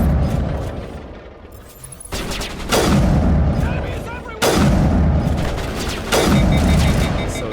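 Grenades detonate in a Mass Effect battle, three heavy blasts spaced a couple of seconds apart, each a loud close boom with a sharp attack that decays into rumble, over background combat noise and some talk.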